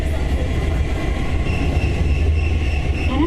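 A Hankyu rapid express Kyo-Train runs between stations, giving a steady, loud rumble of wheels and motors with faint high squeals, heard from inside the carriage with no talk.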